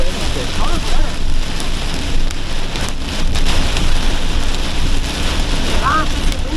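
Torrential rain pours down at Crooked Wood in a dense, continuous hiss, with wind gusts buffeting the microphone throughout.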